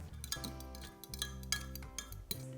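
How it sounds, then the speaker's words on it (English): Eggs and oil are whisked in a bowl, giving a quiet run of light clinks and taps from the whisk against the bowl, fairly close and unhurried, with no speech over it. "Next, put the eggs in the oil. Perfect. Whisk it up."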